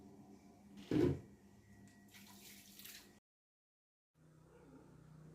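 Water splashes and runs in a basin as lime-soaked papaya pieces are washed for homemade candied papaya; the water stops briefly, then flows again at a low, steady level.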